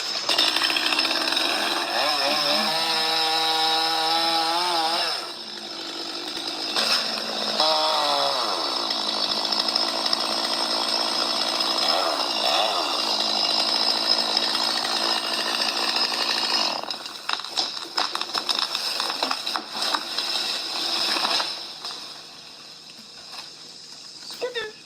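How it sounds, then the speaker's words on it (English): A chainsaw runs steadily while cutting down a tree at dusk, its loud buzzing engine whine holding for most of the stretch with brief revving dips, close and dominant throughout. "trees are so much easier to cut down with a chainsaw"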